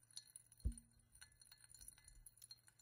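A drinking glass is handled and set down up close, one soft low thump followed by faint light clinks and ticks in an otherwise quiet room.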